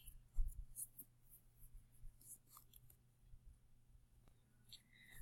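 Pen or marker writing a math answer on a worksheet, a few brief scratchy strokes at close range, faint and intermittent over a low steady hum, with no one talking.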